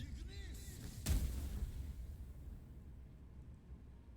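A ranged shot fired at a lever in the video game Baldur's Gate 3, heard as one sharp, loud burst with a short trailing rumble, over low steady background game sound.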